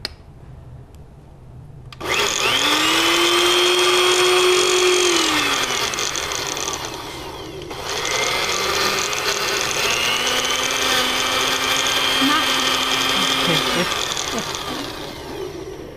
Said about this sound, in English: my blender is not being brave this morning